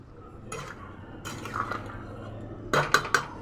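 Egg curry simmers on low flame in a pot while a spoon stirs it, giving a quiet bubbling bed broken by a few metal clanks, then a quick run of three sharp knocks against the pot rim near the end.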